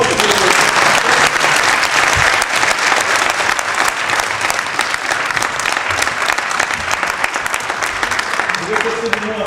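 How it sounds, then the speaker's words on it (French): An audience at a spelling competition held in the Brussels parliament applauds loudly, dense sustained clapping from a large crowd that stays strong across nine seconds, with some voices and background sounds under it. "je veux qu'on applaudisse très fort"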